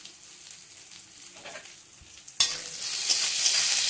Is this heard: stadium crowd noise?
no